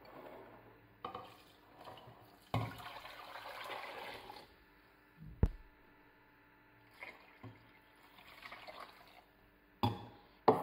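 Water splashes and pours into a pot of meat, onion and black peppercorns in a few bursts, with clinks of the pot between pours, close and fairly quiet.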